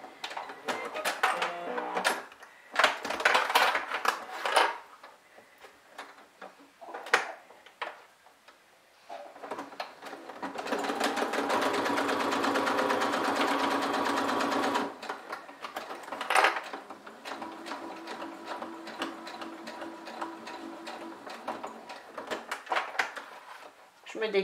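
A sewing machine stitches a makeup pouch in steady mechanical bursts, with a sustained whirring run in the middle, interspersed with handling clicks and fabric rustle and stretches of talking.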